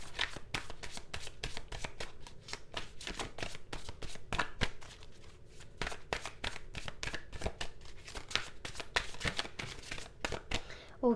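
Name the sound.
shuffling tarot cards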